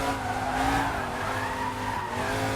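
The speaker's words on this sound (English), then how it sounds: "Well, that was probably a little more sliding than we should have done" Vintage race car in Assetto Corsa sliding through a corner, its tires squealing and skidding in a sustained, wavering screech over the engine's drone, loud and close, with no talk.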